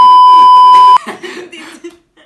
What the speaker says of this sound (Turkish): şimdi söyleyeceğim yere bip koyarsın